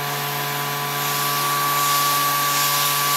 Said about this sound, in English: We're now pumping air out of the trap and down into the vacuum pump.